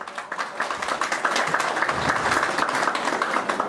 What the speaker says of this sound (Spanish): Muchísimas gracias por esos aplausos, estimados vecinos de esta parte de la región.